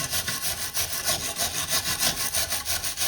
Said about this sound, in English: I'm going to take my wire brush again. And I'm going to scrub the top of it.